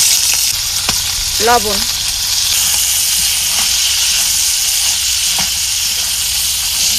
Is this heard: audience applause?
no